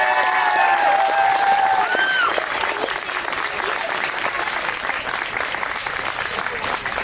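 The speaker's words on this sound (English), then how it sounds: "Please join me in a huge round of applause for our Hillsborough veterans and military service personnel" A big round of crowd applause for veterans and military personnel at a Memorial Day parade, dense sustained clapping with a faint whistle or tone early on, fading slightly toward the end.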